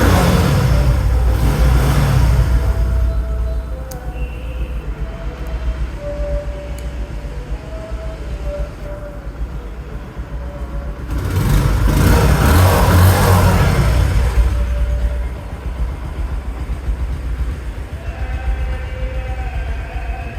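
Engine of a 2024 Bajaj Discover 125 motorcycle with about 12,000 km, in fresh condition, running steadily close by with a low throb and two louder surges, no talk over it.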